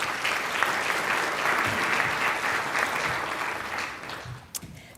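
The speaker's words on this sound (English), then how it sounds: "So please let's give all of them a round of applause." Audience applause for NSF staff and organizers at the opening of the 2019 NSF CIRCL meeting: a full, steady round of clapping from a large room that thins and fades out near the end.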